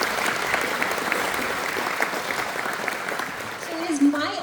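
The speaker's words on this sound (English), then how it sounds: "give her a big round of applause" A live audience claps for a musician at a patriotic evening gathering, steady sustained applause through the whole stretch, fairly even in loudness, with a voice briefly audible near the end.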